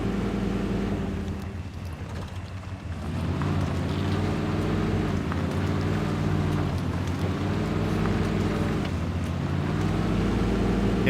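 A Chevy Bison truck engine in Spintires Mudrunner drones steadily with a low, rumbling tone, its revs rising and falling in slow swells throughout, loud and continuous with no voices.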